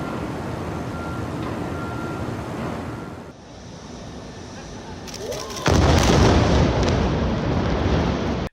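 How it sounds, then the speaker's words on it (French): A silo tower is brought down by demolition explosives and collapses unpredictably, heard as a sustained loud rumbling roar that dips briefly, then surges into a heavier, louder crashing roar as the structure falls. "la réalité s'est révélée plus complexe que les calculs théoriques, et la tour s'est écroulée de manière imprévisible."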